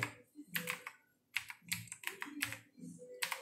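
Quick bursts of keystrokes on a computer keyboard as a command is typed into a Windows command prompt, close and fairly quiet, in short clusters with small pauses.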